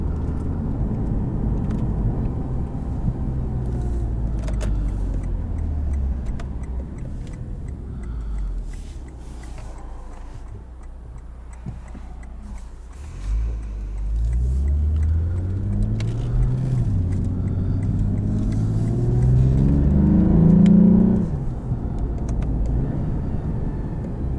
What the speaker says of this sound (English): paddles help accentuate that exhaust note